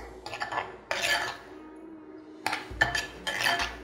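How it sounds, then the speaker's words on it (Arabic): A spoon stirs carrots in a bowl of salad, producing soft scraping and clinking strokes in several short bursts with brief pauses between them, close and moderately quiet. "هقلب الجزر أهو"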